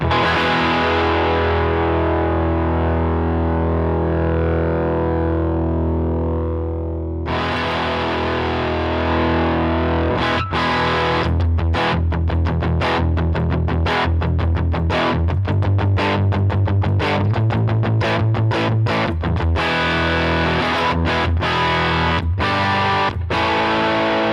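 Heavily distorted electric guitar through a high-gain amp model on a Line 6 HX Stomp, a long sustained chord that shifts into fast, choppy palm-muted riffing, loud and dense throughout.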